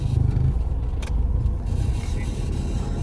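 A 4th-generation Honda City sedan drives along with a steady low engine and road rumble heard from inside the cabin, with a brief higher whoosh partway through.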